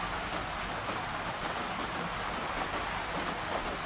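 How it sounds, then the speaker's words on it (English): Steady rain falling, a dense even hiss of drops pattering on surfaces, constant in loudness throughout with no pauses. "You could learn something from the rain tonight."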